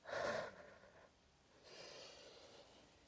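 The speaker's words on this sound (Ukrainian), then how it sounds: "Видих." A person breathes out hard during a core and plank exercise: one strong, close exhale, then a softer, longer breath after a short pause, with no talking.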